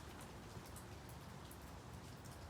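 Rain falls on and around a bamboo gazebo, a dense, even hiss of drops with occasional sharper patters, steady and fairly soft throughout with no voices.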